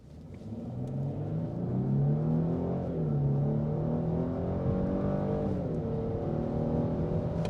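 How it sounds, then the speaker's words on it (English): A 2023 Genesis G90 with a twin-turbo V6 accelerates hard, heard from inside the cabin, the engine note climbing steadily with a deep turbocharged roar, briefly dipping at a gear change before rising again. "as well as getting a hard acceleration"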